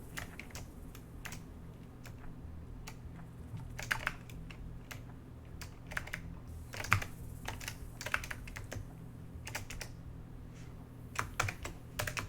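Someone types on a computer keyboard during a Minecraft server livestream, producing quiet, irregular bursts of key clicks over a low steady hum, with no voices.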